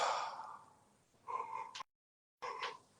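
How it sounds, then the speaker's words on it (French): A person gives a long breathy yawn that trails off, then a shorter voiced exhale, a brief silence, and another sighing breath, all close and soft. "Ouh là là, je baille."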